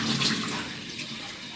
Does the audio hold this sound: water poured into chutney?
yes